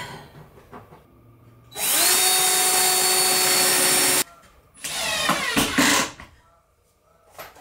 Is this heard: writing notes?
no